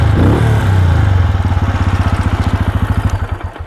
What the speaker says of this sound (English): It's a nice looking exhaust as well, and considering it's a 400, then for a 400 I think it sounds pretty damn good.